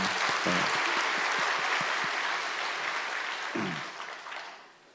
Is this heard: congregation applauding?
yes